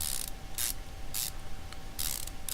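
Bolting in a drive axle joint in Car Mechanic Simulator 2015 brings four quick bursts of a pneumatic impact wrench, each a sharp rattling whirr about half a second long, separated by short pauses over a low hum.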